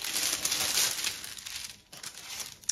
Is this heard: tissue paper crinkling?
yes